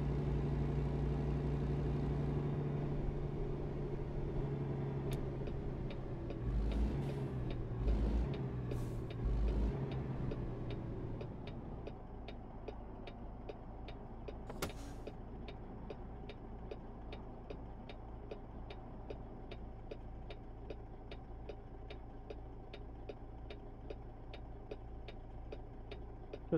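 A Kenworth K100 truck engine in Euro Truck Simulator 2 hums at a steady low idle and cruise, faint, with rapid regular ticking like an indicator over it and no talk.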